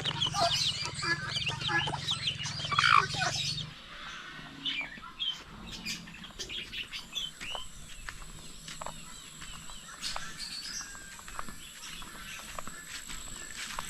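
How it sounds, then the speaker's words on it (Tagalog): Chicken chicks and young turkeys kept together chirp and peep in a rural yard, with busy bird calls in the opening seconds, then quieter scattered cheeps that continue over a low background. "Sisiw ng manok at saka pabo."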